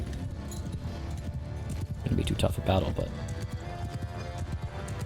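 Cavalry horses gallop in Mount & Blade II: Bannerlord, their hoofbeats a rapid, continuous clatter that builds louder around the middle, under someone talking.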